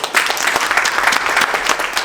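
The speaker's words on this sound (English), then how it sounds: "Let's give him a massive round of applause." An audience at a launch event breaks into dense, sustained applause, loud and steady throughout with no voices standing out.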